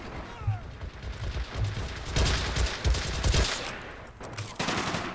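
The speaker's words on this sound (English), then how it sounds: "he will take fire from my machine gunner right here" Automatic weapon fire from machine guns and submachine guns in the strategy game Men of War: Assault Squad 2, dense overlapping bursts of gunfire with sharp cracks and steady rattling throughout.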